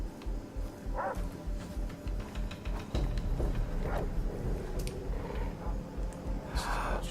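Dogs bark in the Far Cry 3 video game, several short yips and barks at moderate distance over constant game ambience and music.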